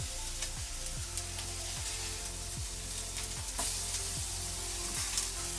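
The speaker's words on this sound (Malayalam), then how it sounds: "ജസ്റ്റ് ഉരുളക്കിഴങ്ങൊക്കെ നിന്ന് ഷാലോ ഫ്രൈ ചെയ്താൽ മതി" Steady, loud sizzling of potatoes shallow frying in sunflower oil, a continuous crackling hiss with occasional spatter and no talking.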